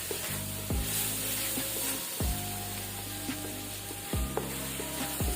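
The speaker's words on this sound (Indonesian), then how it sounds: "Kita akan tumis dulu sebentar" Spices for tahu and tempe bacem sautéing in a pan, a soft steady sizzle broken by three spatula strokes scraping and stirring at regular intervals, with a faint tonal hum beneath.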